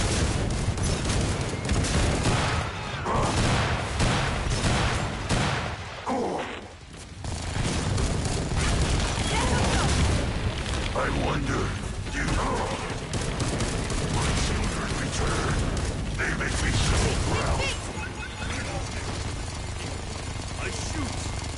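Rapid gunfire from the video game Killing Floor 2, played on PS4 Pro, fills the scene with dense, loud bursts and booming shots that continue almost without pause, mixed with game noise and voices talking.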